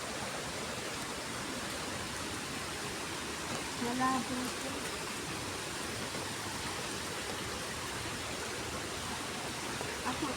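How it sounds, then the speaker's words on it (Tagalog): Steady broadband roar of a large waterfall with murky water, constant and enveloping throughout, with a brief voice breaking in near the middle. "Dito tayo sa malaking falls."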